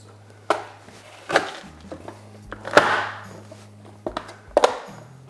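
A hand-pressed onion chopper cutting onions, a series of sharp thunks and crunches, about six separate chops at uneven intervals under a low steady hum.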